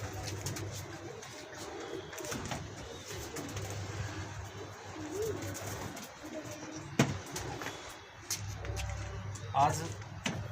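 Soft pigeon coos recur in the background amid rustling and shuffling, with occasional thumps and someone talking faintly nearby.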